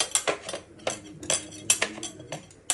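Salt and turmeric being stirred into food in a pan, a utensil scraping and clinking against metal in quick irregular strokes, close and moderately loud with no talking.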